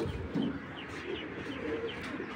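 Imported racing pigeons, a red checker pair among them, give soft low cooing murmurs in a short stretch, fairly close with faint chirps and room noise around.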